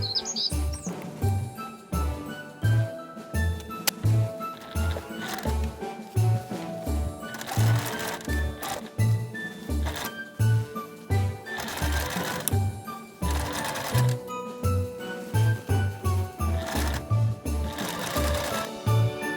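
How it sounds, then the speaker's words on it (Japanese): A sewing machine stitches three layers of fabric together, running in steady rapid bursts with short pauses between runs, close and clear with faint bird chirps behind. "3枚一緒にミシンで縫います。"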